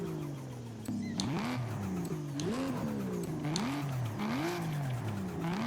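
A Ford F-5 V12 drift car in the Forza racing game screams through repeated revving pulls, its engine pitch rising and falling in waves over steady tire squeal, loud and continuous throughout.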